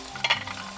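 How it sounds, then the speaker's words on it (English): Shrimp, red peppers and cucumber with mango sauce sizzle in a pan during a brief stir, a short scrape of the utensil over a steady frying hiss. "give this a quick stir"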